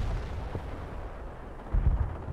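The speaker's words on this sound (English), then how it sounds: "Base under enemy fire." Enemy artillery fire in the Company of Heroes strategy game booms as low, deep rumbles, with a heavier blast near the end over a dull battlefield drone.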